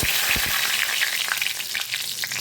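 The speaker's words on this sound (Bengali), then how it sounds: "আর একটা তেজপাতা আর গোটা গরম মশলা ফোড়নে দেব" A bay leaf and whole garam masala drop into hot oil in a Bengali kitchen, throwing up a loud, close, crackling sizzle with sharp pops spattering through it from start to finish.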